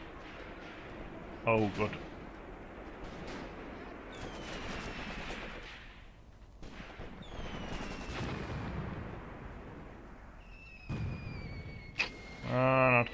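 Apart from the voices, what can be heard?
off-map artillery fire in the video game Graviteam Tactics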